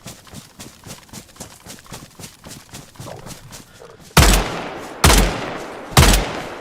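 Video-game gunfire: a patter of quick, hoof-like rhythmic clatter gives way to three loud, evenly spaced gunshots about a second apart, each sharp and booming.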